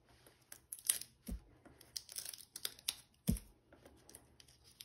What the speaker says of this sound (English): I'm going to take the tape off of this.